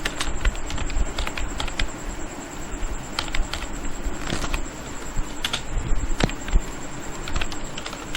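C++ code is typed on a computer keyboard in a quick, uneven stream of sharp key clicks, with a few louder taps standing out and no one talking.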